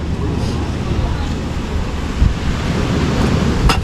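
Strong wind buffeting the microphone at a beach, with surf in the background: a constant loud, rumbling roar with a few gusts.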